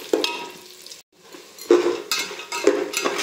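Peanuts and roasted gram being stirred and fried in a pan for a crunchy flattened-rice snack, with close scraping and rattling strokes that come in bursts between short pauses over a light sizzle.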